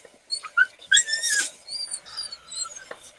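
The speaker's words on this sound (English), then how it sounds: "My dog wants in, and it takes me a minute to get up" A dog whines and whimpers at a door, wanting to be let in, with a string of high, thin whistling cries rising and falling over about three seconds, fairly close and moderately loud, with no talk.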